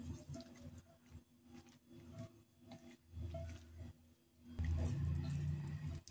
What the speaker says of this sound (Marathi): बघा, ह्या पद्धतीने सगळं मिसळून घ्यायचं आपण